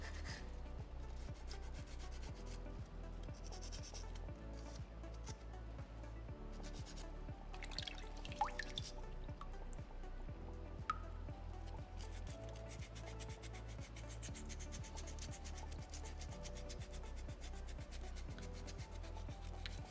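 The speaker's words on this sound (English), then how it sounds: "sandpaper 2 will also get rid of a bit of stone for you" Sandpaper number 2 is rubbed over a small soapstone orca carving, a continuous close, dry, gritty scraping that keeps up steadily for the whole stretch with tiny scratchy ticks scattered through it.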